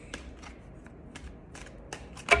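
Tarot cards shuffled by hand in a quiet room, giving several short, soft riffling bursts spaced irregularly, ending in a louder final riffle.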